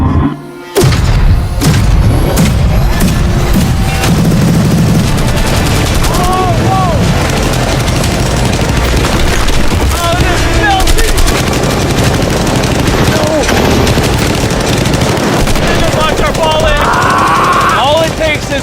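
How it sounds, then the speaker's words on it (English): Light machine gun firing at a Lamborghini, loud continuous bursts of gunfire with booming impacts running through the whole stretch, with voices shouting over it. "They just brought out the LMG."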